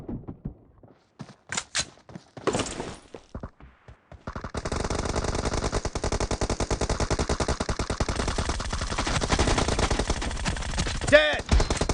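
Rapid automatic gunfire from PUBG Mobile, a few scattered shots early, then a sustained loud burst of continuous fire with a sharper blast near the end, with no voices over it.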